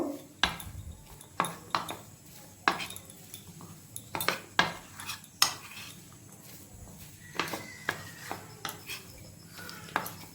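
Soya chunks are tossed with cornflour in a dish, giving a series of sharp clinks and scrapes of a utensil against the bowl in an uneven rhythm, fairly close, with quieter stirring between hits.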